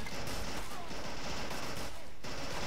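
Sustained machine gun fire in the World War II strategy game Men of War, a dense continuous burst of rapid shots filling the whole stretch, loud and close with no pause.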